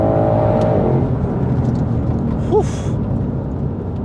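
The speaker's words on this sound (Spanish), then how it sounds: "pones modo pista otra vez y el sonido es, fijaros, primera" Ford Mustang Shelby GT500 with 760 hp in track mode, pulling hard in first gear: a loud, steady engine roar fills the whole clip, with a brief higher whine partway through and no talking.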